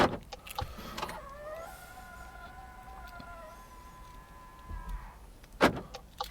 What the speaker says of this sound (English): Let's go through the process of locking it again.